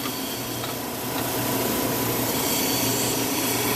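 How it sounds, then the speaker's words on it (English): A trim saw cuts through a big piece of wood, giving a steady, loud, rough grinding drone with a low hum underneath that holds unbroken for the whole stretch, with no voices. "There we go, cutting a big piece of wood."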